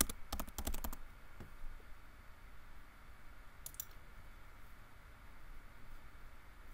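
Typing on a computer keyboard while renaming a door type in Revit, heard as a quick burst of close key clicks followed by a few more taps later, then quiet room hiss.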